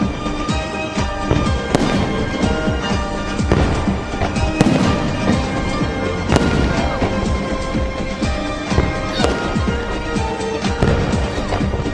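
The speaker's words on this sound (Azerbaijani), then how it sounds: "Sonda ümumilli lider Heydər Əliyevin adını daşıyan parkda atəşfəşanlıq oldu." A New Year fireworks display in a park named after Heydar Aliyev, with loud, continuous crackling bursts and booming explosions overlapping throughout.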